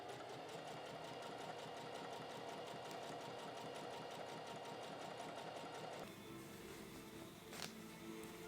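A sewing machine runs steadily, stitching a French seam on a dress made from a bedsheet; its fast rhythmic whir fills the first six seconds, then drops to a quieter hum with a brief sharp sound near the end.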